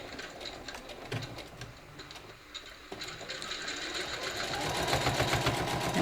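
A sewing machine back stitches along a channel seam on a triple-layered fabric face mask, giving a steady, close mechanical stitching rhythm with brief pauses that grows louder and faster toward the end.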